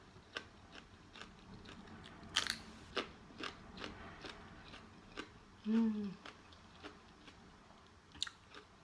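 Large crunchy peanuts bitten and chewed close to the mouth, a quiet series of sharp irregular crunches and clicks, with a brief voiced murmur in the middle.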